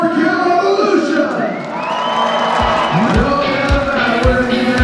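Crowd cheering loudly in a cheer-off at a Mayhem in Maryland skills contest, a dense roar of shouts and whoops with stamping thuds near the end, continuous and close throughout.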